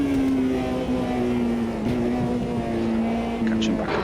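A race car engine droning steadily as it's driven in the Automobilista 2 racing sim, its pitch wavering slightly, with a person talking over the engine.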